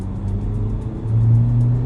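A 2023 Ford Ranger Wildtrak engine accelerates, heard from inside the cab as a steady low drone that grows louder toward the end of the short stretch.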